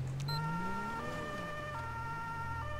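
Ambulance siren in GTA V with the LSPDFR mod, a steady wailing tone rising and falling over a constant electronic hum, loud and continuous with no talking.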